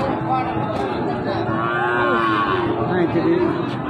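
At a cattle market, a small bull and other cattle moo with long, drawn-out lowing calls over the steady murmur of a crowd chattering close by.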